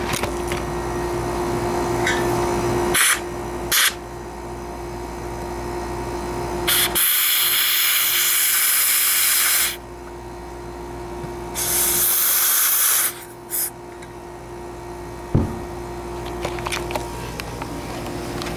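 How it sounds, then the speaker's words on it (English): Compressed CO2 gas purging refrigerant lines during installation of a 2-ton HVAC system: two loud, steady hissing bursts of a few seconds each, starting and cutting off abruptly, with quieter clicks and handling noise between them. "Got my CO2 here and then I connect it to the line and purge it out."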